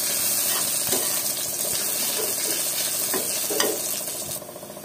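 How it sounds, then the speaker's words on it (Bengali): Onions fry in oil in a pan until lightly reddened, a continuous near sizzle broken by occasional scraping stirs and light clinks, with no one talking. "তো এই যে পেঁয়াজটা একটু হালকা লাল করব"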